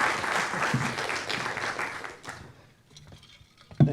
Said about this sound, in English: maybe we give him a nice round of applause